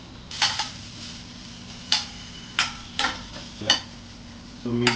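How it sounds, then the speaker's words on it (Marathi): Bell pepper and other vegetables tossed in a pan for Indian-style pasta, with a series of sharp, evenly spaced clacks and scrapes over a quiet sizzle, then a short burst of talk at the end. "आपल्या भाज्या टॉस होऊन झालेल्या आहेत."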